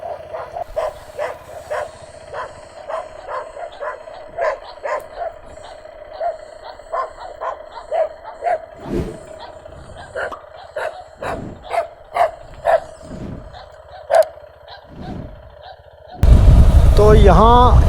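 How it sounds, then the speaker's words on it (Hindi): Stray dogs near the Romanian border bark repeatedly in quick, uneven bursts over a steady engine drone, growing louder toward the end as a motorbike engine or wind surges in. "देखो यहाँ के कुत्ते जो है ना बहुत ही बदमाश हैं।"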